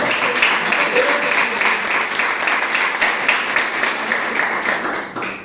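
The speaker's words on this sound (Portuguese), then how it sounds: "Palmas para Jesus." An audience at a religious gathering applauds loudly and steadily, a dense rhythmic clapping that continues for several seconds before fading at the end.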